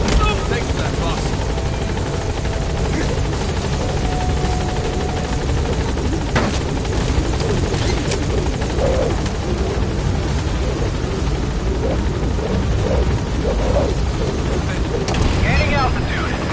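The B-Quad helicopter hovers on station at a landing zone in the video game Metal Gear Solid V, its loud steady rotor thrum and engine whine running continuously throughout, with radio voices talking over it.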